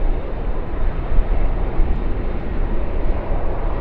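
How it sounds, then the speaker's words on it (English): Airbus A330 on short final for runway 25 at Sydney Airport, a steady broad jet engine rumble held at moderate level for a few seconds. "it is an Airbus A330 that's just on a short final now for 25"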